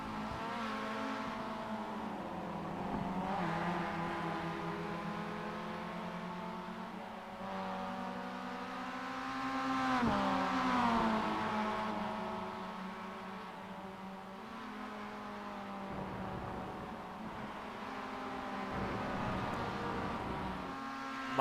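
Spec Miata race cars on a track, several engines droning and shifting pitch as they rev through gears, a continuous layered motor roar with no commentary.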